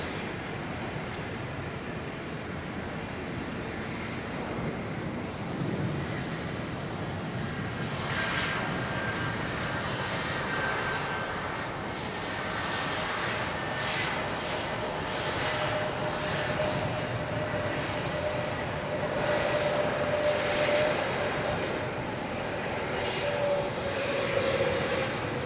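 A distant airliner approaches to land at London Heathrow, its engines a steady broadband roar that swells slightly as it nears, with no talking over it.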